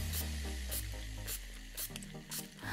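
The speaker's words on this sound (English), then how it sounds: "spray this all over our face" NYX Matte Finish Long Lasting Setting Spray is misted over a face in about five short, crisp spritzes at a steady rhythm, each a brief airy hiss over a quiet background.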